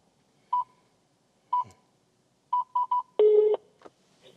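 A car's eCall emergency system placing a call to the 112 emergency line, heard as several separate short dialing beeps in an irregular rhythm and then a brief, louder buzzing ring tone, close and clear in a quiet interior.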